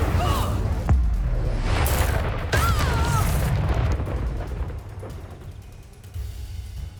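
Incendio fire spell in Hogwarts Legacy, cast during a fight in a haunted Hogsmeade shop: whooshing fiery blasts and booms over continuous dense combat noise, with swishing spell effects and impacts layered throughout.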